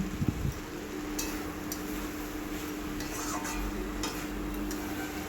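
Chickpea masala being stirred after sugar is added, soft scraping and light clinks of a spoon in a pan over a low steady hiss, close and fairly quiet.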